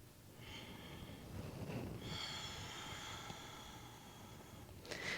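Oceanic ujjayi breathing in a beginner yoga practice, a soft, steady throaty rush of air sustained for several seconds, close and quiet, with a faint sharper breath at the end.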